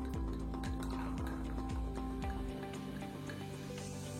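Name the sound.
pouring Prosecco into a spritz cocktail glass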